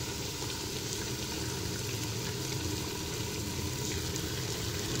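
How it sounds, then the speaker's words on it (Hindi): A cup of cooking oil hits a hot pan of potatoes and carrots cooked dry over high flame, setting off a continuous dense sizzle and crackle at close range. "अब मैं इसके अंदर 1 कप कुकिंग ऑयल ऐड कर दूंगी।"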